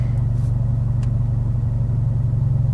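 A manual-transmission car engine in first gear as a learner driver applies gas, heard as a steady close rumbling idle-like drone without a clear rise in revs.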